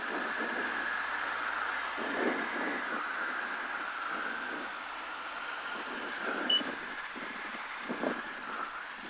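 A small STOL airplane engine runs steadily while taxiing on a runway after landing at a short-field course. It holds a moderate, slightly pulsing drone with a few soft bumps throughout.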